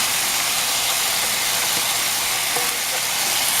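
Onions cooking in a pan for a spaghetti meat sauce, a steady dense sizzle and hiss throughout with no talking.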